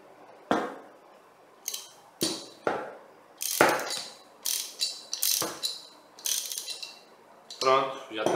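A Deca Link faucet repair cartridge is turned with a tool during replacement, producing a run of sharp ratcheting clicks and metallic scrapes in uneven bursts, close and fairly loud.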